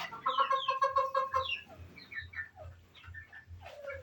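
Two desi hens kept in a coop with a rooster cluck and call: a run of drawn-out, tonal squawks at the start, then scattered short clucks, close and alone.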